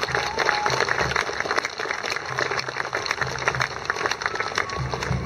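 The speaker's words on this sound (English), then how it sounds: "Your applause now will honor the captain and those who have kept his memory." At a medieval festival, an outdoor crowd applauds steadily for several seconds, a lively spread of clapping with some crowd noise mixed in, fairly close and continuous.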